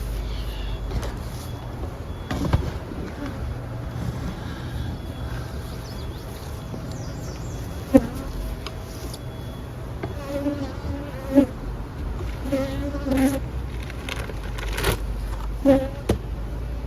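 Honey bees buzzing around a beehive being treated for mites, a steady low drone with occasional closer buzzing passes and a few faint clicks and knocks, with no talking.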